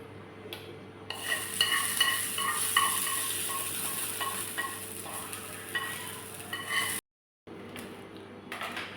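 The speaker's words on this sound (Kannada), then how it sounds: "ಈಗ ಅದಕ್ಕೊಂದು ಒಳ್ಳೆ ಒಗ್ಗರಣೆ ಕೊಡುವ" Mustard tempering for a tomato chutney crackles and sizzles loudly in hot oil, a steady dense hiss with stirring, cutting out abruptly for a moment before resuming more quietly.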